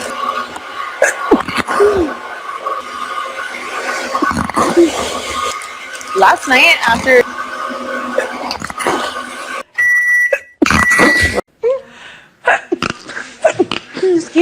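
A run of sharp sneezes from different people, loud and close, interleaved with talk and brief beeping tones between them.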